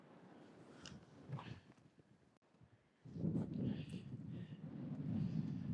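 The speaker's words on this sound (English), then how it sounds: "it's really, really windy" Gusty wind buffeting the microphone, a low rumbling roar that swells and drops away, then returns stronger and steadier.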